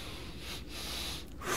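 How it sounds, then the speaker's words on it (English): Quiet breathy sniffing of the air by a character in World of Warcraft, a couple of short nasal intakes over a soft steady background. "Valinar sniffs the air."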